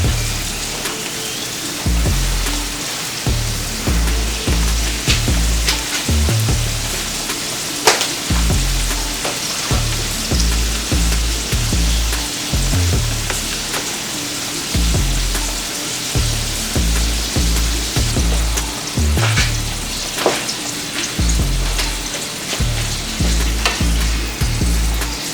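Homemade empanadas fry in hot oil with a steady, loud crackling sizzle, and spattering pops keep coming over a low, pulsing rumble throughout.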